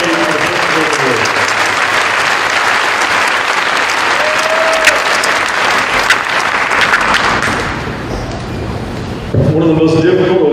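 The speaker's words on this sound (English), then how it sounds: "Let's give one more round of applause to all the deserving seniors" An audience at a high school class night ceremony applauds graduating seniors, loud dense clapping that holds steady for several seconds, dips briefly, then swells again as voices cut through near the end.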